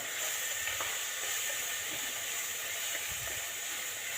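Ginger and garlic sauté in a pan, a faint steady sizzle and hiss with a few soft stirring knocks.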